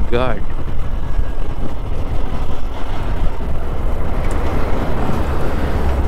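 A Hero XPulse 200 Rally Edition motorcycle rides on a highway, heard as a loud, continuous rush of engine and wind noise with a brief rising whine at the start.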